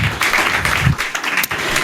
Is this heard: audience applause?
yes